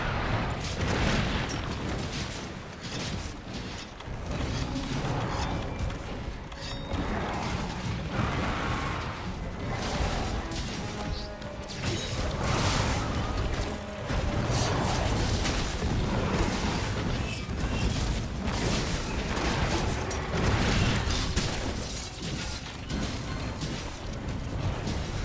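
Repeated booming gunlance full-burst explosions in Monster Hunter gameplay against a Tigrex, dense and loud throughout with mechanical clanks and bursts layered over continuous rumbling game audio.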